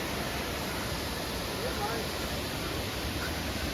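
Toraskarawadi Falls in dense forest, swollen with water, a steady broadband rush of falling water heard from nearby, constant and unbroken.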